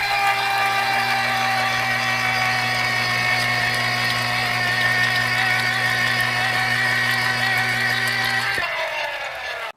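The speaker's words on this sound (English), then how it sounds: "press the switch button to start the blender." A kitchen blender whirs steadily while blending milk and banana into a shake, a loud continuous motor drone with harmonic whine that cuts off abruptly near the end.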